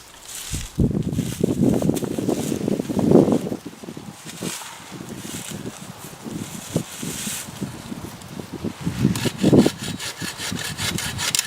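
Wood being cut by hand for a bush shelter outdoors: rough, rhythmic rasping strokes, close and moderately loud, with faint wind in the background.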